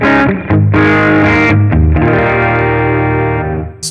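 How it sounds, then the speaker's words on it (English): Electric guitar through a Hotone Ampero Mini modeler set to an Ace 20 1x12 cabinet simulator, a lightly fuzzy tone: a few picked notes, then a loud sustained chord ringing out for several seconds before being cut off. "This model is a cabinet simulator based on the sound characteristics of the Morgan AC20 1x12 cab."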